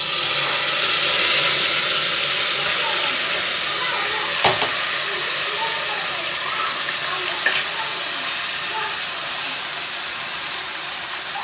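Chicken pieces added to a pan of fried onions and bay leaf sizzle steadily, a dense, constant frying hiss with faint stirring clinks throughout, close and fairly loud with no talking.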